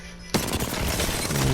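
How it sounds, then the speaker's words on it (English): An Apex Legends weapon fires a sudden, loud rapid burst at a training dummy, continuing as dense, rattling automatic fire until the end. "I moved on to the strafing and shooting the dummy 4 times in a row."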